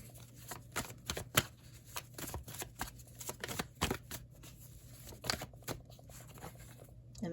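Tarot cards shuffled and flipped down during a reading, a steady run of crisp riffling slaps and soft flicks with a brief louder snap, close and alone with no talk.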